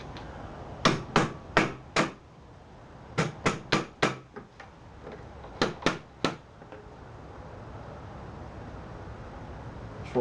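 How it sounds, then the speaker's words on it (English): Hammer taps an ATV winch mount into alignment on a Honda TRX200SX, striking in three quick bursts of sharp metallic knocks, each a rapid pair or run of blows, close and loud over faint background hiss. "I might have to give it a little tap with the hammer to align it"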